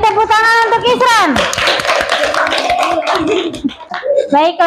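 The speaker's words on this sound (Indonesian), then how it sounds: "Oke, dari tepuk tangan untuk Isran." A class of students claps for a classmate, a short burst of quick close hand slaps under loud children's voices and cheering.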